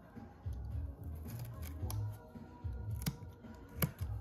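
Scissors trim excess Alcantara fabric wrapped on a Hyundai Veloster N interior pillar, giving a series of quiet close snips and crisp cuts at an irregular rhythm with faint handling rustle between them.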